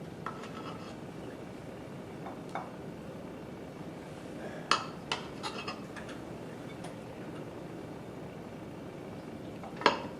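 A serving spoon scrapes and taps as cooked rice is dished into a bowl for gumbo. The clicks and knocks are faint and scattered over a quiet background hiss, a few of them sharper, and no one talks.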